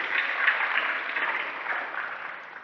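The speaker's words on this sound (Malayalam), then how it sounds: "നമുക്ക് നല്ലൊരു കൈയടി കൊടുത്ത് ഇന്ദു മിസ്സിന്റെ പ്രവർത്തനങ്ങളെ പ്രോത്സാഹിപ്പിക്കും." An audience at a school reader's club inauguration applauds a teacher, the clapping dense and steady, swelling briefly before gradually thinning out over a few seconds.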